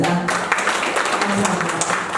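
Crowd applause at a tourism council's annual general meeting in Ansan, a dense steady wash of many hands clapping fairly loudly with no pauses, voices mixed faintly underneath.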